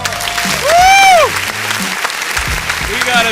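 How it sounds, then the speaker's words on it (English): A studio audience claps and cheers loudly, with whoops over the applause and a voice calling out on top of the noise. "round of applause! Round of applause!"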